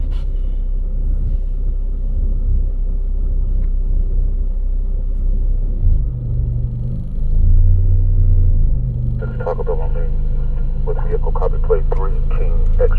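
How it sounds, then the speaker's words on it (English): Cars backed up on a street, heard as a steady low traffic rumble with engine drone throughout and a voice talking over it near the end. "All these cars are backed up on this one street"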